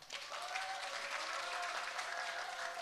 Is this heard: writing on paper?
no